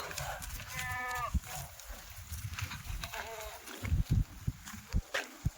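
A Kathiawadi goat bleats twice in wavering calls against rustling and thumping movement in an animal pen, with faint voices nearby.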